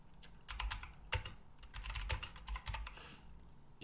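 Someone types on a computer keyboard, producing close, irregular bursts of key clicks separated by brief pauses, with no talking.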